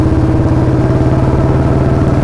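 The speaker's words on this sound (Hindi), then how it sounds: "लाउड एग्जॉस्ट इसका साउंड करने लगा है" A Royal Enfield Bullet 350 motorcycle fitted with a loud free-flow L-bend exhaust, idling close by with a deep, steady, rhythmic thumping beat that stays even and very loud throughout.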